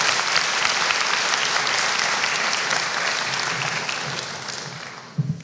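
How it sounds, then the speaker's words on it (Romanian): A large audience at a chemistry graduation ceremony claps after a speech, dense and loud at first, then gradually thinning and fading, with a brief voice and a few louder claps near the end. "prima dată ați aplaudat-o pentru discurs"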